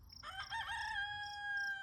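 A rooster in a backyard flock of hens crows once, a loud, clear, sustained cock-a-doodle-doo rising after a brief sputter and holding steady close by for nearly two seconds.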